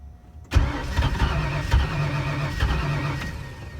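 A 1964 Mercury with Holley Sniper EFI cranks and catches in minus-20 cold. The engine fires abruptly and roars loud and close, then runs roughly with uneven surges.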